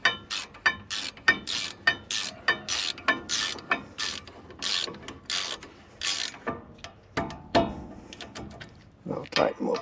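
A ratchet clicks in quick bursts while tightening very tight brake caliper bolts on a 2008 Ford F250, close and fairly loud, with short pauses between runs of pawl clicks.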